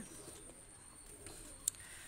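Pigeons coo faintly and softly in the background, with one brief sharper call standing out near the end.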